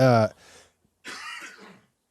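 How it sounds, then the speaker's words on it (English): A short, harsh cough bursts out, followed after a brief pause by a raspy throat-clearing sound, close to the listener. "It was such a hard cough"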